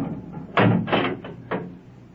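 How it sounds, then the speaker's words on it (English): A door being opened in an old radio drama, heard as a series of close wooden knocks and clunks, three or four distinct hits with a creaky rattle, fairly loud and alone. "Open the door."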